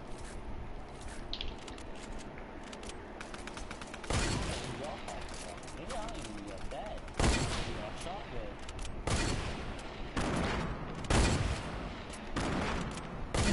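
Gunfire rattles through a video game shootout with a sniper rifle and pump shotgun, bursts of shots and louder volleys recurring over continuous game noise, fairly faint.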